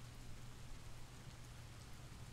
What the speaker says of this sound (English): Are you guys enjoying this rain?